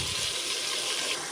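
Water is poured from a lota into a cooking pot for biryani, a brief, steady splashing gush, close and moderately loud.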